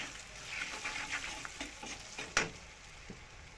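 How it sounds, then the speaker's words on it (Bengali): Ground spices (salt, turmeric, cumin) frying in a pan while being stirred: a steady close sizzle with scraping strokes and one sharp clack of the spoon near the middle, no talking. "মশলাটাকে একটু কষিয়ে নিচ্ছি।"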